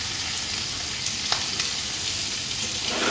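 Cumin seeds tempering in hot oil for a bottle gourd curry produce a constant close hissing sizzle with occasional small pops and a light stirring scrape.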